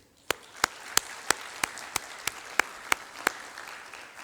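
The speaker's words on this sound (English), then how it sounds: "could you join me in applauding their good efforts?" Applause at a 2021 graduation ceremony: a steady, evenly spaced run of sharp, close claps rises above a softer wash of crowd clapping, lasting about four seconds with no talk.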